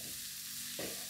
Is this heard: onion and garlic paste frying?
yes